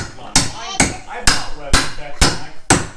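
Nails are hammered into a wooden box with seven loud, evenly spaced hammer strikes, each a sharp close crack about half a second apart, with faint background murmur between blows.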